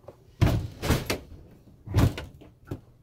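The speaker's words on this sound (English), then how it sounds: "I'll have to go shut that door." A house door, one the wind or a draft had left slightly open onto a deck, is pushed and shut with a few heavy thumps and knocks, close by and loud, with small rattles between.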